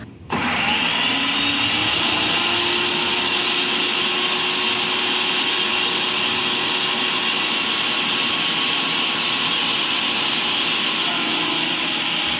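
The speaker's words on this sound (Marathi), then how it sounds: "मिक्सर लावला आहे तोपर्यंत दोन्ही हे मिक्सरचं सगळं काम करून घ्यावं" A kitchen mixer grinder switches on and grinds masala for stuffed bitter gourd, a loud, steady, high motor whine that holds without a break after a brief start-up.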